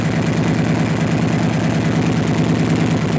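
A 2017 Harley-Davidson FLHX CVO motorcycle idles close by through a loud stock exhaust, a steady deep throbbing rumble with an even pulse and no popping, heard alone.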